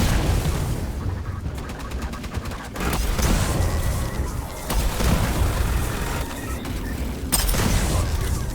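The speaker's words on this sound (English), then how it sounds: "Grenade out." Heavy gunfire and booming blasts from the sci-fi shooter Aliens Fireteam Elite 2, with a grenade detonation among sustained bursts of weapon fire, loud and close throughout.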